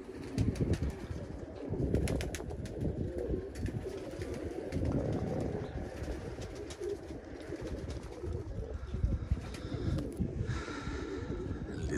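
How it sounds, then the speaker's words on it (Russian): Pigeons released into a frosty, windy winter sky, with flapping wings and soft cooing amid rustling outdoor noise, fairly close and continuous, no talk. "Сейчас традиционно поднимаем голубей."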